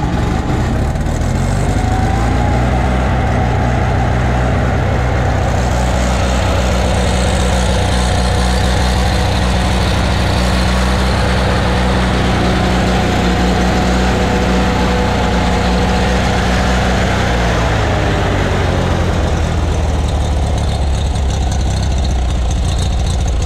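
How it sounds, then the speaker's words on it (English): A warm Miller Bobcat 225G welder engine cranks over and catches, then idles loudly up close with a steady low drone and faint changes in pitch as it settles, with no talking. "Engine is warm, we don't need a choke, let's crank it over."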